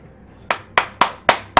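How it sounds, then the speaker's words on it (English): A single person claps five sharp, evenly spaced times, close and crisp, after a brief quiet start with no talking. "One man's applause for Titanfall 2."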